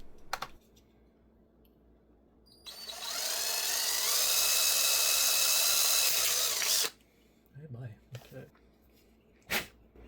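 A power drill with a small drill bit boring a hole, whining loudly and steadily for about four seconds, framed by a few clicks and knocks of handling before and after.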